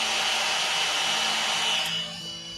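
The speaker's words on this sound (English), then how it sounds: "here the fans on the RC2 have kicked in" The cooling fans of a DJI RC2 remote controller whir with a loud, airy, hair-dryer-like rush. Near the end the rush drops to a softer hiss, and no one speaks.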